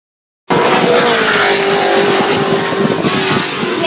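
A Lola Chevrolet race car roars past at Goodwood Revival, its loud V8 bursting in suddenly after near silence and holding a steady, close, full-throttle drone with a slight pitch shift.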